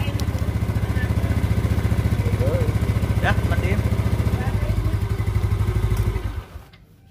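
Motorcycle engine running after a start, a loud close chugging idle with steady pulsing and some mechanical clatter, cutting off near the end.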